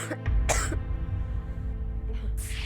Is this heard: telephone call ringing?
no